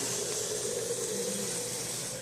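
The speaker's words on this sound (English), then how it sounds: "for the excess sauce that's in your jar, I just run a little water in it" Tap water running steadily into an empty glass jar that held spaghetti meat sauce, a continuous close hiss and trickle lasting a couple of seconds with no talking.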